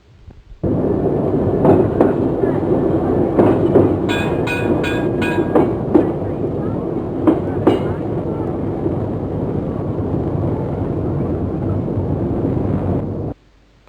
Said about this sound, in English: This is the Santa Fe train.